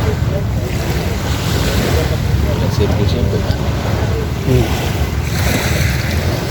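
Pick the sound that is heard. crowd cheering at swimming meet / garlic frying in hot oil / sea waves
sea waves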